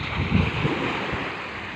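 Sea waves wash onto a beach at Paratong, Candon, Ilocos Sur, a constant broad roar of surf mixed with gusty wind buffeting the microphone, close and continuous.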